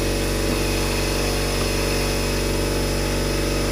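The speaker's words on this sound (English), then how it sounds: "we're going to hit this thing with a blast of air one more time in case anything fell in there" A steady, loud blast of compressed air hisses continuously into the spark plug well of a Mercedes C350 engine, close and unbroken.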